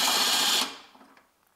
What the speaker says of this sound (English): here is my 12 millimeter socket and extension. And in that area, and my electric driver.